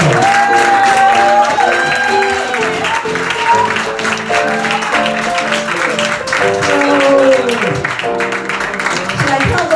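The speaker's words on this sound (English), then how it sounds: "give her a big round of applause" A crowd at a comedy show in Washington DC applauds and cheers as the host comes up, loud and busy, with whoops and shouting voices mixed in over the clapping.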